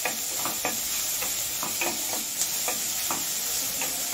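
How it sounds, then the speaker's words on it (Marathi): Half an onion frying in a pan for prawn masala gravy, a steady close sizzle broken by regular light scrapes and clicks of a spatula stirring it, with no one talking. "हा कांदा आपल्याला छान असा लालसर रंगावर परतून घ्यायचा"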